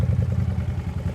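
A 2011 Honda VT750C Aero cruiser motorcycle idles close by, its engine giving a steady low, lumpy rumble with faint mechanical clatter and no change in pace.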